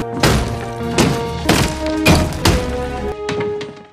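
Repeated heavy thuds and crunching impacts as a wall is broken through, about six blows at irregular intervals, with debris rattling between strikes, loud and close.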